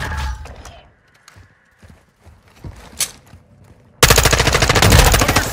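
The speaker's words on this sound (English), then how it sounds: "Taking fire!" Call of Duty Modern Warfare II gunfire starts with scattered shots and clanks over quieter stretches, then a loud, sustained rapid-fire burst rattles close until the end.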